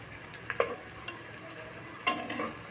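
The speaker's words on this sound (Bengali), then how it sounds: "বেটে বড়া ভাজছি" Fritters made from ground rice and lentil paste fry in a pan, with a soft background sizzle and a few scattered utensil clicks and scrapes, the brightest one near the end.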